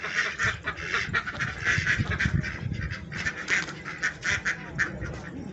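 A flock of ducks quacks continuously at moderate distance while feeding on water spinach and snails, with overlapping, raspy calls in an irregular, busy rhythm.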